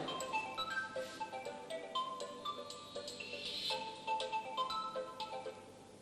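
A melodic phone ringtone plays a bright, repeating electronic tune, fairly quiet and with no talking over it.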